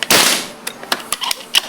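A Jawara Mouser PCP air rifle fires a shot, a sharp crack followed by a few lighter clicks and snaps, close and loud with no talk.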